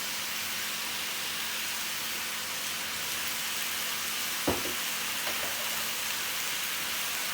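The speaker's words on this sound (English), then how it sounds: "I'm going to add a little olive oil onto our beef" Beef browning in olive oil in a pan, a steady bright frying hiss throughout with a single sharp tap and a few faint knocks from the pan partway through.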